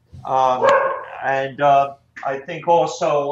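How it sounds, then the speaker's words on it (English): A dog barks repeatedly in the background while someone talks over it, the short barks and yips breaking through between and under his words. "I apologize for the dog that might be barking in the background."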